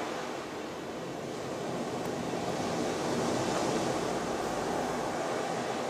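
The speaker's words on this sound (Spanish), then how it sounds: "el mar." Sea waves rolling onto a shore, a steady broadband wash of surf that swells slightly louder midway and keeps up continuously without a break, with a touch of wind and no voices.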